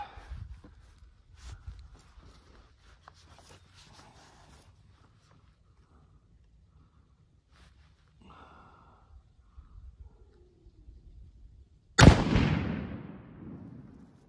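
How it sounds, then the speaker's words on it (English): A rifle chambered in 30-06 fires a single 30-30 bullet, one loud sharp report near the end that rings out and decays, after a long stretch of quiet handling noise and faint background sound. "All right, this is the fast 30-30 bullet."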